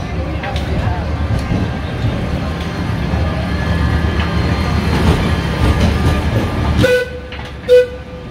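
Sóller tram in the centre of a Majorca town, clattering steadily along its rails close by, then a short toot of its horn near the end.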